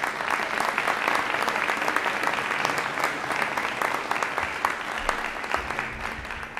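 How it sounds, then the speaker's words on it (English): Steady applause fills the hall at a special town meeting as the audience cheers a youth football team, a thick continuous crackle of many hands clapping at even volume with no talk. "Can we have a round of applause for these great kids?"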